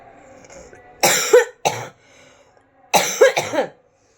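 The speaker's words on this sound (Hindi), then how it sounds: "ये खांसी, भगवान ऐसी खांसी दुश्मन को भी ना दे" Two bursts of harsh coughing, each a quick cluster of two or three hacks, close and loud with quiet gaps between.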